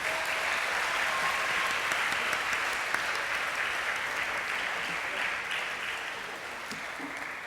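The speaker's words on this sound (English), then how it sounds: "Another round of applause, please." Audience applause follows a performance at a Diwali celebration, a dense, steady clapping from a crowd that holds evenly for the whole stretch and fades only slightly at the end.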